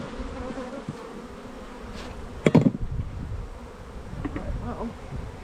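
Honeybees buzz steadily around an opened hive during an inspection and comb cleanout, a close, droning hum that swells with louder bursts of nearby wingbeats.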